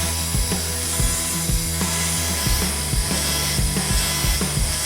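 A 2.5mm high-speed steel burr in a rotary tool texturing metal on a WW2 commando dagger build, a loud steady grinding whir broken by repeated rhythmic scraping bursts.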